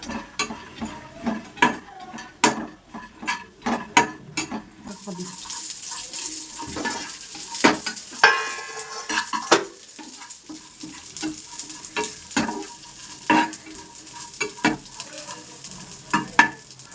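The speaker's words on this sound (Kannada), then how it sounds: "ಇವಾಗ ಸ್ವಲ್ಪ ಗೋಡಂಬಿ ಹಾಕೊಂಡು ಫ್ರೈ ಮಾಡ್ಕೊತೀನಿ" Cashews being fried for a dry fruits laddu, with a spoon scraping and stirring them around a pan in repeated sharp strokes over a faint steady sizzle.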